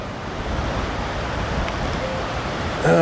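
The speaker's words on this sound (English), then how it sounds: "I don't know if it comes across as windy here, but it's really windy." Strong wind blowing across a volcano hiking trail, a dense continuous roar of rushing air buffeting the microphone, loud and steady throughout, rising slightly at the very end.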